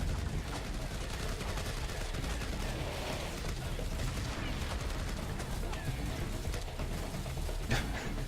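Gunfire in the Iron Man Xbox 360 video game, heard as continuous rapid fusillade crackle and bursts under a busy game mix, with a player talking over it.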